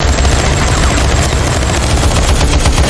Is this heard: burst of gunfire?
yes